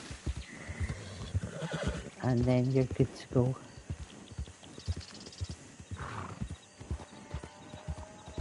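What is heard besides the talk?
horse neighing and hooves in a video game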